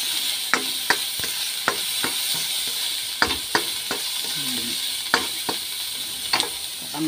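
Chopped chayote and other vegetables fry in a pan with a steady, even sizzle, broken by sharp clicks and scrapes of a utensil stirring against the metal, close and alone without talk.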